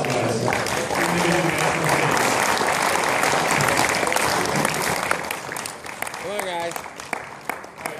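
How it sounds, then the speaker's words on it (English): A crowd at a NARAM 56 rocketry awards ceremony claps steadily in a sustained, even round of applause, with voices and a few whoops mixed in, the clapping thinning slightly toward the end. "Give a big round of applause"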